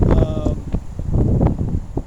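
Wind buffets the microphone in uneven low rumbles and gusts, with a voice speaking faintly beneath the blustery noise.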